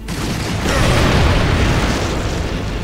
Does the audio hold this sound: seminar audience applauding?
no